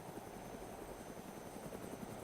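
A helicopter in the video game DayZ drones with a steady rotor thump and engine whine, continuous and moderately loud, with no speech over it.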